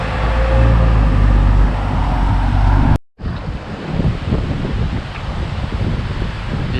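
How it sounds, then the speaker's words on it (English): Strong trade winds gust across the coast of Aruba, a loud, steady broadband roar of wind buffeting the microphone, broken by a brief dropout midway before the blustery rush resumes. "By the way, it's always windy here. It's the trade winds."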